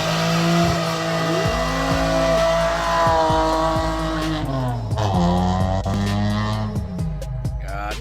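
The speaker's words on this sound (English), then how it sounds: "do a burnout" A car does a burnout on a street, its engine revving hard while the tires squeal loudly and continuously, with the engine pitch rising and falling throughout.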